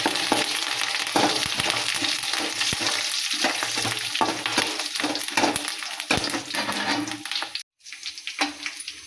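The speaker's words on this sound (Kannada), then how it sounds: "ಹಾಗೆ ಒಣ ಮೆಣಸಿನ್ಕಾಯಿ ಹಾಕ್ತೇನೆ, ಕರಿಬೇವು. ಹೀಗೆ ಇದನ್ನೆಲ್ಲ ಚೆನ್ನಾಗಿ ಮಿಕ್ಸ್ ಮಾಡಿ." Dry red chilies and curry leaves fry in hot oil for bisi bele bath, a dense continuous sizzle broken by scraping stirs of a spoon in the pan, with a brief drop-out near the end.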